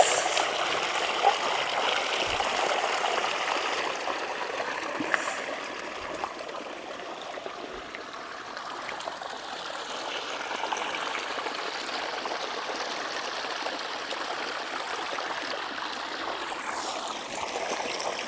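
Irrigation water flows steadily into a groundnut field, a continuous gentle rushing and trickling stream heard close, moderately quiet and unbroken for the whole stretch.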